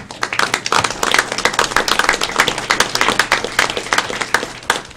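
Steady applause and scattered clapping fill a meeting room of an electrical safety and licensing advisory board, honoring a retiring colleague; dense, even hand claps continue for the full stretch with no talking over them.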